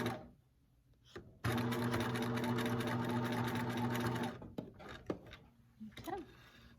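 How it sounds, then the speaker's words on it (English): A sewing machine stitches elastic in place on a fabric casing in one loud continuous whirring run of about three seconds, then stops. A few clicks and handling sounds follow, and a voice speaks briefly near the end. "So what we're going to do is we're going to sew that in place."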